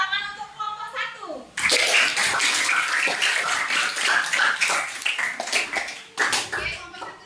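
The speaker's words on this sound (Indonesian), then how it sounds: "Tepuk tangan untuk kelompok 1." A classroom of children applauds a group after their presentation in a Hindu religious education lesson. A short voice comes first, then a dense, steady burst of clapping from many hands that fades near the end.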